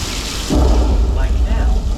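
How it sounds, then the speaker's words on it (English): Simulated rain and thunder effect on the Universal Studios Hollywood studio tour, a loud broad downpour roar with a heavy low rumble swelling after the first half second, continuous and close throughout. "we got all the rain back here. Can't tell it from the real thing."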